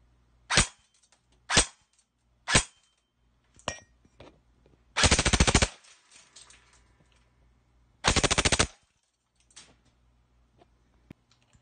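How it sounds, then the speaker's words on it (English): An airsoft gun with an option 1 brushless motor on a 7.4V LiPo battery fires sharp, close single shots, then two short full-auto bursts that rattle off quickly, with quiet gaps between. "Seven-point-four LiPo using the option 1 brushless motor"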